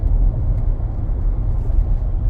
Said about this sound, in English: And there's the truck.